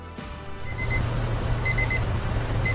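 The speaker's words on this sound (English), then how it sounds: "the timer is going off" A kitchen timer alarm rings with a steady, repeating high-pitched beeping pattern, close and fairly loud over a low background hum.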